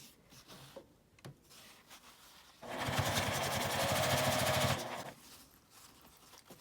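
A sewing machine edge-stitches fabric on a zipper pen case in one loud, rapid burst of needle chatter lasting about two seconds, framed by quiet handling rustles.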